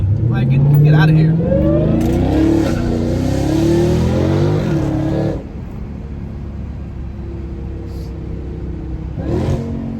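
A Dodge Hellcat Redeye's supercharged engine revs hard as it drops a gear, rising in pitch in surging pulls before settling to a lower drone, with someone talking over it.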